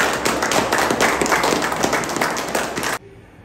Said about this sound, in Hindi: तालियां मत रोको यार एक बार।